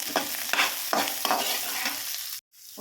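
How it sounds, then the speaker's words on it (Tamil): Onions fry in butter in a pan with a close, crackling sizzle, broken by rhythmic scraping strokes of stirring about every half second before the sound cuts off briefly. "ஆனியன் ஆனியன் நல்லா வதங்கட்டும்"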